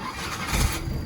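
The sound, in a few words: Peugeot 3008 engine starting in junkyard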